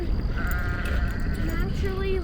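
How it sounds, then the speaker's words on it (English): A herd of goats bleats nearby with several wavering calls, over steady outdoor background noise while a person talks. "we just happened upon a whole herd of goats"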